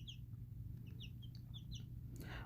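Chicks from a backyard chicken flock, including ayam cemeni and onagadori, cluck and peep in short high repeated calls, fairly faint over a steady low hum, with a brief louder rustle at the end.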